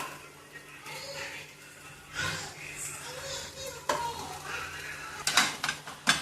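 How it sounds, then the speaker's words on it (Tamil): Maggi noodles mixed with egg and vegetables stirred in a pan: scraping and clinking of a spoon against metal over a low sizzle, with a few sharper clatters near the end and some voices in the background. "மேகி இந்த முட்டை இந்த காய்கறி எல்லாத்தையும் நல்லா மிக்ஸ் பண்ணி விட்டுருக்கோம்"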